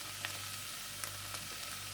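Zucchini frying in a pan for soup, giving a quiet, even sizzle with a few soft ticks and stirring touches, close but faint.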